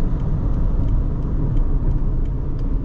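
Subaru Forester SJ5 with non-turbo engine accelerating hard from 0 to 100 km/h, a loud, continuous low rumble and roar heard from inside the car, steady throughout without speech.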